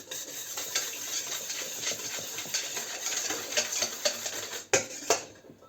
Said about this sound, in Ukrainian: До миски вбиваємо одно яйце. Додаємо пів чайної ложки солі. Це розмішуємо.